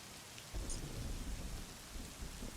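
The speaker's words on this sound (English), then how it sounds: "Is that thunder?" A low rumble of thunder rolls in over a steady hiss of rain falling on a surface, soft and fairly distant, with no one talking.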